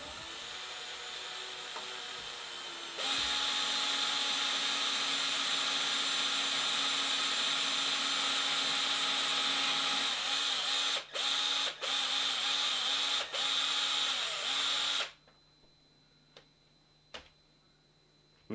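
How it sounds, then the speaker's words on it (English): A power drill fitted with a 5/32 bit bores through the center of a Savage 10ML-II muzzleloader breech plug to clear carbon fouling, running as a loud steady whine for about twelve seconds with a few brief stutters before stopping. "a 5/32 drill, and we're going to see what amount of carbon crud we can get out of the center of that breech plug."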